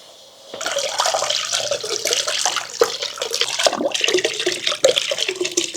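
Water gushes steadily from a garden barrel fountain being installed in a greenhouse, a dense, splashing rush that starts abruptly and keeps running close and loud with irregular spatters and no talk.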